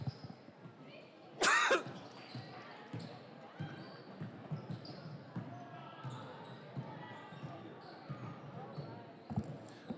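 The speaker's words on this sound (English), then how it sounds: "a little coughing attack there" A sharp burst of coughing from a nearby person at a girls' basketball game, then quieter background noise with faint talk and occasional thuds.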